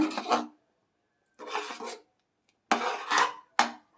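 A spoon scrapes and rubs against the bottom of a pot while moong dal and sago payasam is stirred, in three or four short rasping bursts with silent gaps between them. There is no talking.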